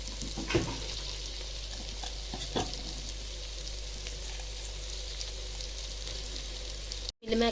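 Soy chunks (meal maker) frying in ginger-garlic spice paste for veg biryani, with a steady close sizzle and a few sharp scrapes and clacks of stirring throughout, ending in a brief dropout.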